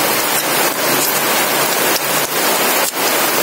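Steady rain falls on a rainy day in Bicol province, a dense, loud, continuous hiss with a few sharper drip or splash accents scattered through, and no voices.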